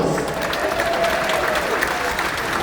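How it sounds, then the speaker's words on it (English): An audience claps steadily aboard the Sun Princess cruise ship during an elite guest event, a dense wash of applause lasting a few seconds with faint crowd murmur and no clear speech. "Give me a round of applause."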